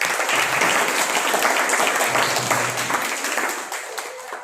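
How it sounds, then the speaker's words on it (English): A school debate audience applauds, steady full clapping from a roomful of people that fades gradually toward the end, with faint voices mixed in. "Let's give them a round of applause."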